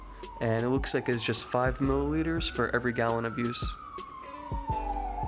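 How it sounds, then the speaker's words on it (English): An ambulance siren sweeps slowly in the background, its long falling tone running steadily beneath someone talking close up in a garden setting. "It looks like there's like ambulance or something passing by."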